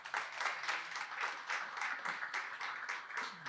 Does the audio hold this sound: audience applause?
yes